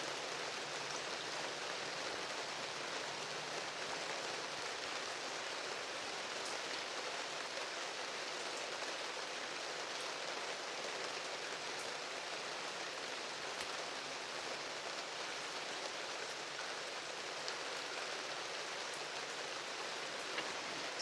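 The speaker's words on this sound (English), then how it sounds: "looking out into my backyard and the rain's falling down" Steady rain falls outside a backyard studio, a dense, even hiss of drops on surfaces that continues unbroken and fairly close, with no voices.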